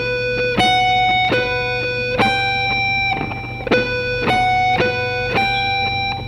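A distorted electric guitar plays a rock lick of string-skipping triads, picked notes ringing out in a quick, repeating pattern with sustained tones between attacks, played alone and close.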